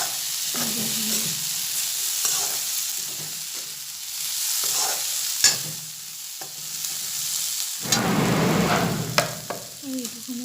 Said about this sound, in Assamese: মানে অলপমান ভাজি ল'ব লাগে।